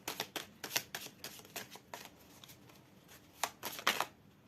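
Tarot cards are shuffled by hand in a series of quick, crisp riffling bursts, close and fairly quiet, with short pauses between the flurries.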